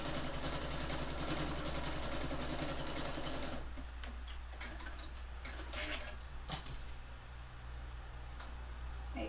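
A sewing machine stitches a fabric key fob with a loud, steady mechanical whir and rapid ticking rhythm. Partway through, the motor tone shifts and continues more unevenly with scattered clicks.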